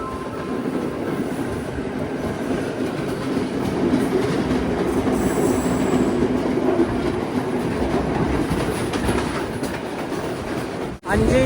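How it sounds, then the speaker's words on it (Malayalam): A train rolls into Colombo Fort railway station, its wheels clattering steadily over the rails in a loud, continuous rumble, with faint voices in the background and a sharp thump near the end. "അഞ്ച് 25 ട്രെയിൻ ഇതാ കൊളംബോ ഫോർട്ട് റെയിൽവേ സ്റ്റേഷനിലേക്ക് എത്തിയിരിക്കുകയാണ്."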